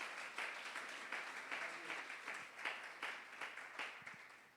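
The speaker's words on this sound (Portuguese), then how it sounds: "Dê um aplauso a Ele" A church congregation claps in praise, a soft, fairly distant patter of many hands that swells in loose rhythmic pulses and fades slightly toward the end.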